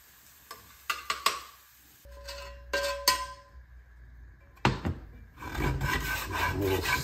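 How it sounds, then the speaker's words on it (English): A spatula scrapes across a pan to clear space for two eggs, giving several short rasping strokes separated by pauses, then a longer scraping, sizzling stretch near the end. "A little scrape just so I have a section where we can add our 2 eggs."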